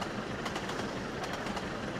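Train 275/6 running in a train video game: continuous rumbling roll with faint rhythmic clicks of wheels over track, steady and fairly close.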